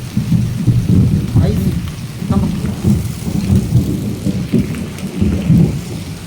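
A hailstorm in Vijayapur, North Karnataka: low rolling thunder rumbles on and off beneath steady rain pattering on surfaces, heavy and close with no voices.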